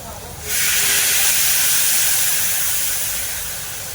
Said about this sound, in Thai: ใส่น้ำไปสักหน่อยครับผม ใส่น้ำขอแป๊กหน่อย